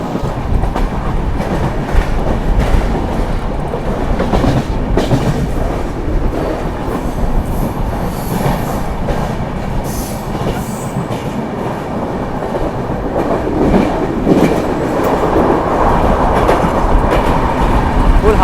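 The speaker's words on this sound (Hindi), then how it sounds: "मुंबई के अंधेरी स्टेशन को स्किप करने वाली है अपनी महाराष्ट्र संपर्क क्रांति एक्सप्रेस।" Maharashtra Sampark Kranti Express running at high speed through Mumbai's Andheri station without stopping, a loud continuous rush of rolling coaches with rhythmic wheel clatter and faint squealing, heard up close.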